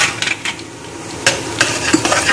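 Ground red chili and ajwain are stirred while roasting in a pan, with soft scraping strokes of a spoon and a light sizzle. There is no talk.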